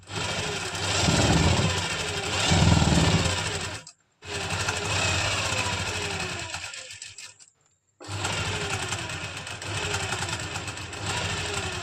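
A sewing machine stitching the crotch seam of a palazzo, running in three fast, rhythmic bursts separated by short stops, loud and close.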